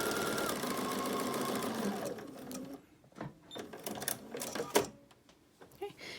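A sewing machine stitches a fabric face mask. A close, steady mechanical whir runs for about two seconds, then gives way to quieter clicks and brief taps of handling the fabric.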